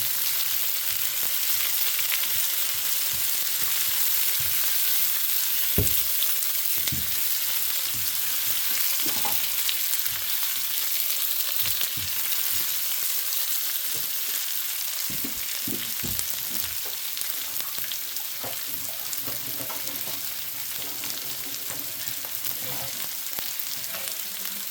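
Potatoes and onion fry in a skillet with a constant, close crackling sizzle, broken up by intermittent spatula stirs and scrapes against the pan.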